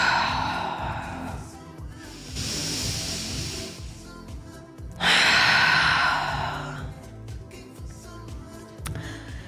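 Slow restful yoga breathing in a seated bound-angle pose, two audible airy breaths, a long inhale and a stronger exhale, close and soft over quiet rhythmic background music.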